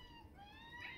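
Faint, continuous meowing from hungry cats holds steady and swells slightly near the end. The cries are soft and somewhat distant, with no voices over them.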